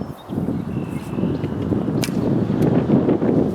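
Wind gusting across an outdoor archery range, a steady broad rush with a few soft thumps, loud and close to the microphone throughout.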